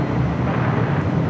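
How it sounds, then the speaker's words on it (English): A China Southern Boeing 777 freighter touches down on runway 25 left at LAX, a broad steady jet roar with wind rumble, fairly loud and continuous, with no voices over it. "we just had a China Southern 777 freighter touching down on 25"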